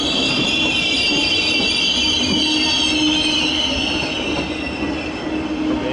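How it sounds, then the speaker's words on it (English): A regional train arrives at Köln Hbf under the train shed on a rainy day, rumbling loudly with sustained high-pitched wheel squeal and steady rolling noise close by. "Regional service to Köln Airport arriving there."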